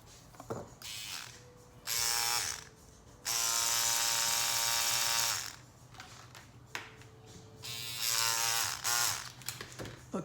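A scalp micropigmentation tattoo machine buzzes in several separate bursts of a few seconds each, steady electric whirring with gaps of quiet between runs, close and fairly loud.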